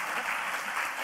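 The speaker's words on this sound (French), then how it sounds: "on peut l'applaudir" Audience clapping at an awards ceremony for a nominee, a brief burst of dense, even applause at steady loudness.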